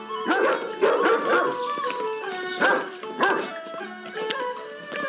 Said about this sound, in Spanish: ¿Perros guardianes, Ailu?